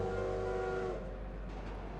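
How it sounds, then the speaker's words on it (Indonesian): A station bell in the video game Celestia: Chain of Fate Memories signals a train's departure with a steady tonal ring lasting about a second, then fading into quiet rail ambience. "Bel stasiun berbunyi menandakan keberangkatan kereta."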